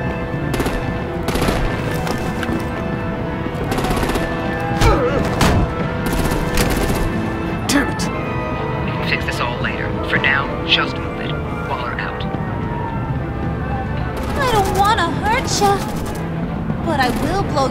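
Rapid bursts of automatic gunfire in a Batman: The Enemy Within fight, loud and dense, layered with shouting voices and booming impacts throughout.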